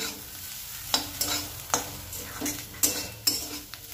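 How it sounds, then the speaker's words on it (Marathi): A spoon scrapes and knocks through a pan of bamboo shoot curry with fresh coriander stirred in, giving a string of sharp, close clatters over a faint sizzle, with no voices. "कोथिंबीर घालून आपण मिक्स करून घेणार आहोत या पद्धतीने।"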